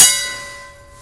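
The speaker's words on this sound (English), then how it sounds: "Here's that bell." A bell on a classic fire truck gives a single close, bright strike that rings on and slowly fades away over about a second.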